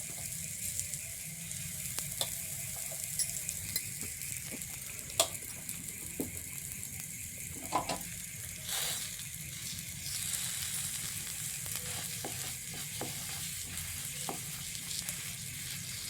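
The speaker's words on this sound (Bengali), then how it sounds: "চলুন এক এক করে আমরা এবার তাওয়াতে বড়াগুলোকে ছেড়ে দিচ্ছি।" Palm fruit fritters shallow-frying in a little oil on a tawa give off a steady, close sizzling hiss dotted with small crackles and pops, continuing throughout with no talking.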